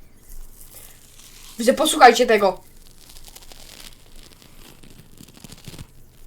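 A bar of soap is cut or scraped in a satisfying-style clip, giving a short, crisp, crunchy burst of under a second. Someone talks quietly before and after it.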